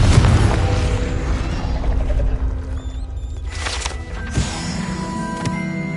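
A Confringo blasting spell bursts in the Hogwarts Legacy game on PS5, a boomy blast over a dense, rumbling wash of game noise, with a sharper impact later and tonal ringing after it.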